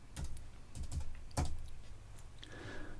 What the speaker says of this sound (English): And I'll type the word zoom.